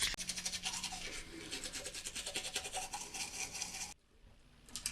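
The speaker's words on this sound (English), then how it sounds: "right now I gotta brush my teeth" Rapid back-and-forth scrubbing of a toothbrush on teeth, a close, rhythmic bristly rasp lasting about four seconds before stopping abruptly.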